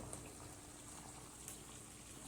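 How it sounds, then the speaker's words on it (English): Water trickles and splashes from a container into a pan of drying bolognese sauce, a faint, steady pour lasting a couple of seconds with a small clink partway through. "I'm going to put a little water on this"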